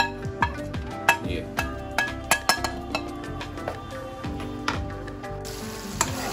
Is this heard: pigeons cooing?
no